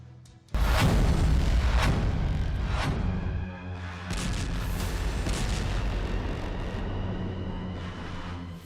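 A large explosion at sea sets off a sudden, loud boom, followed by a long, heavy rumble that rolls on and slowly fades over several seconds.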